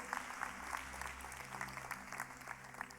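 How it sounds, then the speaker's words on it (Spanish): A church congregation applauds for Jesus during a sermon, a soft, fairly distant patter of many hands with scattered sharper claps, heard over a low, steady musical hum. "Dele un aplauso a David. No, mentiras, a Jesús."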